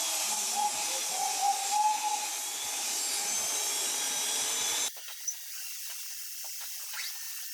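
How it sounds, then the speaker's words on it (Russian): A drill spinning rotary burrs grinds excess weld off a Chery A13 Acteco SQR4 cylinder head, giving a steady, close, high-pitched hiss that stops suddenly, leaving faint workshop noise. "Стандартно шарошки и дрель мне в руки и вперед."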